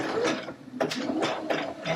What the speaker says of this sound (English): And it should start stitching out our Allegro.